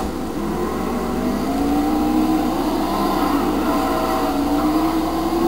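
Race cars in the NASCAR Heat video game at Sears Point (Infineon) produce a steady, continuous engine drone with rising pitch as the cars accelerate, loud and constant throughout with no talk.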